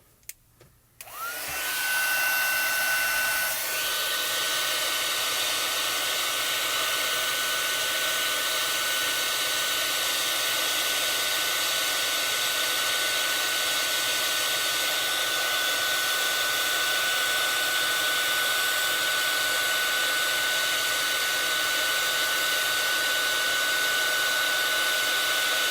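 Heat gun blowing from beneath a piece to melt embossing powder, switching on after a few faint clicks and then holding a loud, steady close-up roar with a high whine throughout, no talking.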